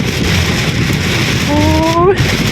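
Heavy rain during a storm in Bangkok, a dense steady hiss of downpour filling the whole clip at constant loudness, with a brief rising tonal whine near the end.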